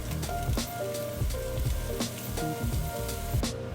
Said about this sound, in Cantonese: 之後再放蘿蔔絲入去兜炒